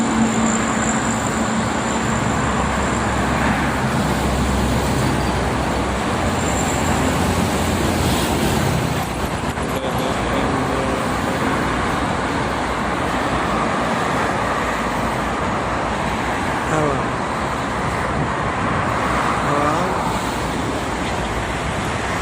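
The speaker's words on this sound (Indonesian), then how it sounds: "jemur pagi sambil melihat lalu lintas tol Jakarta Cikampek" Continuous traffic roars along the Jakarta-Cikampek toll road in a steady, broad wash of tire and engine noise, moderately loud and unbroken, without voices.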